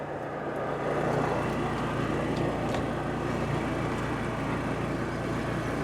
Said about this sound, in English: I'm standing right next to the exhaust of the generator